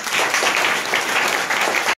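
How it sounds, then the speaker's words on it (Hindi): Sustained, dense applause from a class of students fills the room steadily for about two seconds after a Class 6 bulb-lighting experiment, then cuts off abruptly. "ताली बजाइए भाई।"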